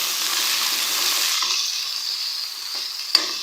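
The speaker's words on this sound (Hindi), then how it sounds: "अदरक लहसुन के पेस्ट को हम लोग प्याज के साथ इस वक्त तक फ्राई करेंगे जब तक कि इसका कच्चापन ख़त्म नहीं हो जाता" Ginger garlic paste frying with onions in a pan gives a steady, close sizzle with a brief stirring clink near the end, and no voices.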